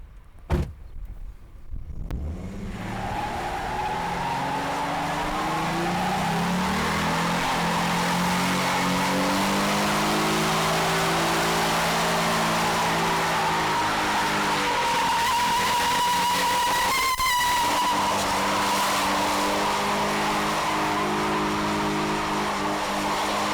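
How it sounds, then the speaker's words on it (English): A 2011 Ford Mustang V6 does a burnout with smoking tires: the engine revs hard and holds at high revs while the tires squeal loudly and continuously. It is close and sustained, with no talking. "I'm going to smoke some tires."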